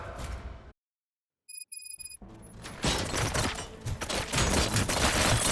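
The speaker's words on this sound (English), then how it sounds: "Gunshots? What's going on?" A short beeping tone after silence, then a dense, loud burst of rapid gunfire rattling continuously in the video game Robocop: Rogue City.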